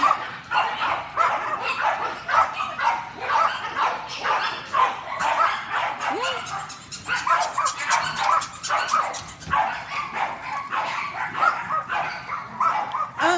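A dog barks and yips in rapid, continuous bursts close by, with occasional whimpers mixed in, filling the whole stretch with excited, insistent noise.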